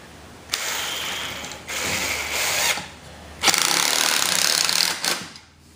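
A screw being driven into a wooden corner joint makes a loud, grinding mechanical whir in several bursts with short pauses between them, the last burst longest. No voices are heard.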